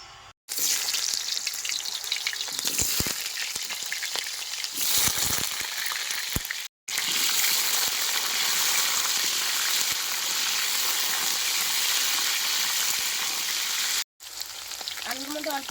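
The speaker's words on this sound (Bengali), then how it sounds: "নতুন আলুগুলো একটু তেলের মধ্যে দিয়ে বাইজে নেবো" New potatoes frying in hot oil in a wok in a village kitchen, a dense continuous sizzle broken by brief dropouts, with occasional stirring clatter and no talking.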